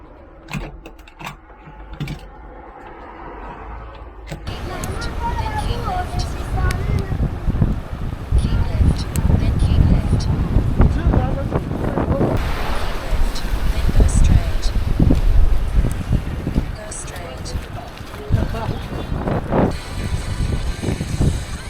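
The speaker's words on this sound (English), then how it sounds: "Strong winds today." Strong wind buffeting a cyclist touring Jeju Island, South Korea, a loud, steady roar and rumble across the microphone that builds after a quieter opening and keeps gusting throughout.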